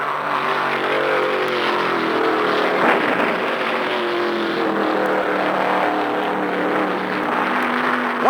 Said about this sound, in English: There goes an engine.